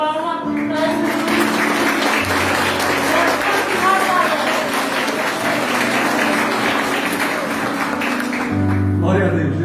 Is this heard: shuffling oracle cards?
no